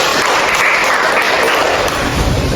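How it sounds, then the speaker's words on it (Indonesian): Steady applause from a group gathered for a training session, loud and continuous with dense clapping throughout and no voices standing out. "Kita kasih tepuk tangannya lagi."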